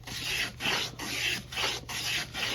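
Hand plane taking thick, coarse curls off a wooden guitar back brace, with repeated rasping strokes about every half second, close and steady.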